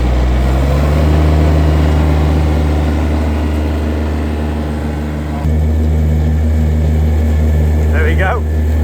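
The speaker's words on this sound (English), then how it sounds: "To rev it up." An RTK mower engine runs loud and close with a steady droning hum, shifting pitch midway as it is revved, while a person speaks briefly near the end.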